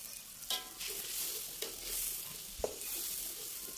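Boiled red chilies and bird's-eye chilies sautéing in a pan for sambal goreng kentang: steady soft frying hiss with a few sharp stirring clacks, moderately close.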